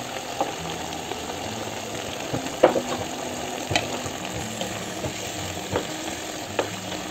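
Green beans, carrots and tomato frying in a pot, a steady soft sizzle with occasional stirring clicks and taps, close and alone without talk.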